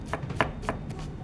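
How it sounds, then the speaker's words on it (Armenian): A knife chopping onion on a cutting board in a kitchen, several quick, fairly close strokes at an uneven rhythm with no talk over them. "Հիմա կտրում ենք սոխը։"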